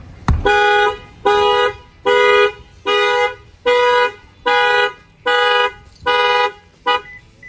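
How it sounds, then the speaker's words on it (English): A sharp knock on a Toyota Tundra sets off its factory car alarm, via a shock sensor, honking in eight evenly spaced loud blasts, each about half a second long. "That will fire off the alarm."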